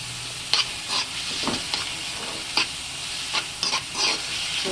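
Shrimp paste, bagoong alamang, sautéed in a pan for pakbet gives a steady close sizzle and hiss, broken by scattered bright scraping stir strokes and spatters, with no talk.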